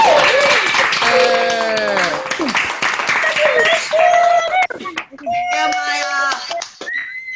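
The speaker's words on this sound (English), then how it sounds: "join me in a round of applause for our fabulous graduates." Unmuted participants on a video call applaud graduates at a Class of 2020 ceremony, with scattered clapping, cheering voices and whistles overlapping in an uneven, loud, compressed-sounding burst.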